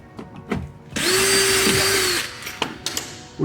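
Close power drill cutting through a composite side rocker on a 2020+ C8 Corvette, a single steady whine of about a second and a half, then spinning down, with a few light taps around it and no talk.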